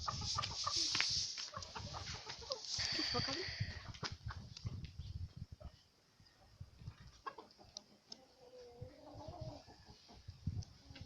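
Backyard chickens cluck in a village coop, a few birds close by with a continuous run of short calls while people talk nearby.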